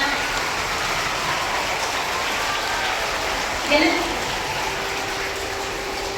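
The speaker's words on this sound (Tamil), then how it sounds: "எனக்கு இந்த கைத்தட்டலை பார்த்தோன்னே ரொம்ப மகிழ்ச்சியா இருக்கு." An audience claps at a Tamil-language gathering, a continuous even patter of many hands with a brief louder swell near the middle, and a faint voice now and then underneath.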